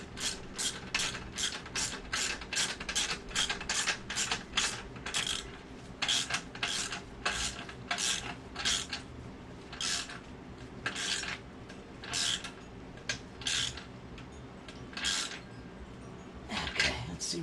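Ratchet wrench running down the bolts on a slip-on exhaust for a 2008 Harley-Davidson Sportster 883C, with a steady series of quick clicking bursts close by and short pauses between strokes.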